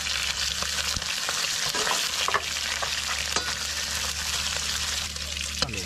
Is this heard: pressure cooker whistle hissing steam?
no